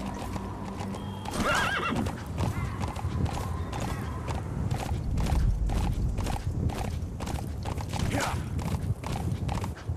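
Rapid hoofbeats of a galloping horse clatter steadily, with a whinny breaking in near the start and again later; sound effects from Metal Gear Solid V: The Phantom Pain.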